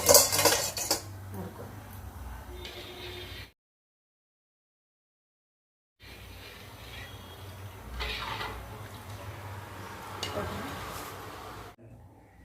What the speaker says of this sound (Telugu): జాలి గిన్నె